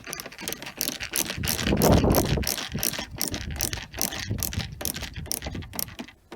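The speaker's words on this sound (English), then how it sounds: "So let's just put those screws back in and just tighten these up." A hand ratchet tightens screws back into a VW T5 Transporter, giving a steady run of close, dense clicking pawl strokes with no talking.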